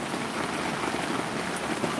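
Heavy rain falls steadily, making a dense, continuous hiss of drops on surfaces with no gaps and no talking.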